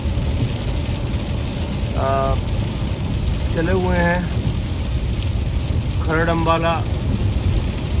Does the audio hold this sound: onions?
no